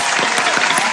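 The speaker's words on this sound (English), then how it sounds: "Let's give a round of applause for love." A short burst of applause with a dense, even clapping wash and a few faint rhythmic thumps underneath, heard briefly during a talk radio show.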